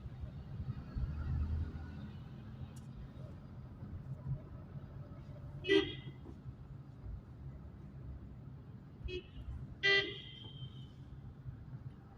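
Morning traffic on the old GT Karnal Road, a low rumbling flow of vehicles with two distinct car horn toots several seconds apart, heard at moderate distance and fairly faint.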